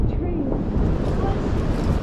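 Strong outdoor wind buffets the microphone in a low, continuous rumbling roar, loud and close, with no clear speech.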